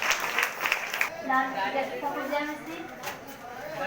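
Congregation clapping during a Sunday church prayer service, a burst of broadband applause heard under and between talk, with voices and sung or spoken tones running throughout.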